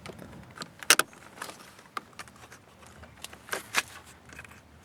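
Rear seat latch mechanism in a 2002 Volvo V70 worked by its black release arm: a few sharp metallic clicks and snaps close by, separated by quiet, faint handling noises in between, with no talking.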